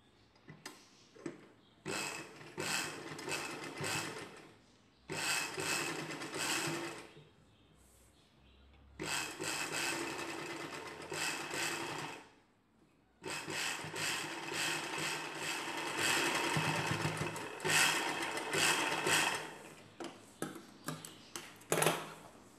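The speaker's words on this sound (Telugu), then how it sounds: "రెండు పీసులు కలిపి కుట్టు వేసుకోవాలి" A sewing machine stitches two Anarkali dress pieces together, running in several bursts of rapid mechanical clatter separated by brief pauses.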